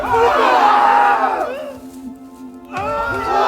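Echoing screams fill the air in a haunted-sounding effect, several wailing voices overlapping and trailing off into reverberation before another cry rises, loud and eerie with no speech.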